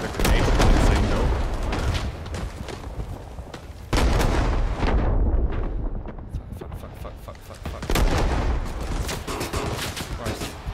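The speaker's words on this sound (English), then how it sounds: "I'm gonna hit it with some rockets and some artillery." Rockets and artillery fire in Rising Storm 2, with dense rumbling blasts and booms rolling through heavy gunfire in loud bursts, one surge after another, while players talk over the barrage.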